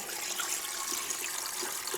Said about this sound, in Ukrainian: вливаємо воду